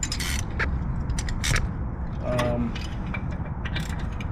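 Ratchet wrench working a 15 mm bolt on the secondary clutch of a 2020 Polaris Pro XP, giving close metallic clicking and scraping bursts in a steady mechanical rattle, with no talking.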